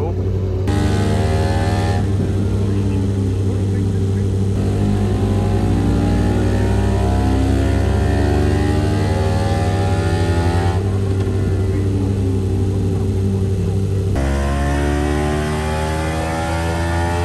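Race motorcycle engine at the Isle of Man TT warming up, a loud steady drone with rising and falling revs held close by throughout, and someone talking over it.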